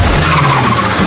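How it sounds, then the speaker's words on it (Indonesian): Loud, sustained tire skid from a car sliding off the road into a ditch in the film Fear Street 1994, a short harsh scrape heard alone. "Melihat mobil pacarnya si Sam nyusruk ke dalam ruyuk"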